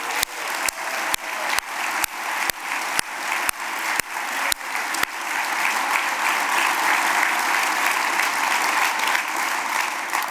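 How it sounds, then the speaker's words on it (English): An audience at an awards ceremony applauding Alan Bernick, full sustained clapping from a crowd, with a regular series of sharp clicks over the first half. "So how about a round of applause for Alan Bernick?"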